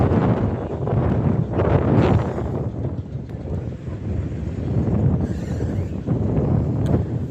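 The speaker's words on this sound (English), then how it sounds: "Oh, it's really windy now." Strong gusty wind at a theme park buffets the microphone in heavy surging rumbles that rise and fall for several seconds.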